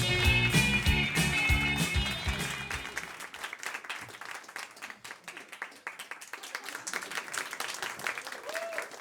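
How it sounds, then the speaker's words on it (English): A comedy club audience claps at a Trevor Lock stand-up show in Rotterdam, the clapping starting under a loud burst of music and then continuing alone as scattered, uneven claps from a smaller crowd. "Everyone's clapping."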